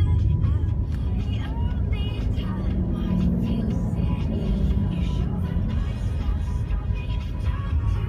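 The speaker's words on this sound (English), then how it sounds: "Traffic." Steady rumble of road traffic heard from inside a moving car on the way to Portland, a dense continuous low drone with passing vehicle swells and no clear voices.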